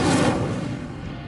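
A single Incendio fire spell cast in Hogwarts Legacy erupts in a loud burst of whooshing flame that fades away over about a second.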